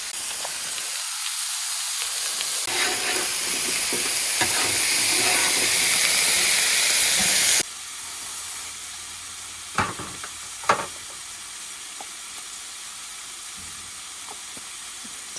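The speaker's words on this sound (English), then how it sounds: "We're going to deglaze some of that steak flavor onto the veggies." Steak pan juices deglazed over squash, zucchini and onions at a forest campsite, a loud rushing hiss of steam and sizzle that drops abruptly to a quieter frying crackle with a few sharp clinks of a utensil.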